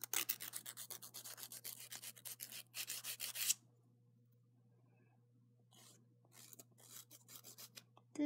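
Close, rapid rasping strokes of a nail file scraping across a fingernail, a brisk rhythmic burst, a pause, then softer, quicker filing resumes.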